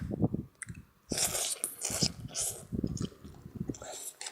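Someone eats instant noodles with minced pork, with crunchy bites and wet chewing close to the mic and talk mixed in between the mouthfuls.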